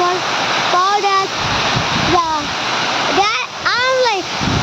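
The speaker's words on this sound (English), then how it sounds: "I'm like standing like so near this waterfall" A huge waterfall in Chukha, Bhutan roars close by as a steady, loud broadband rush, with a person talking over it throughout.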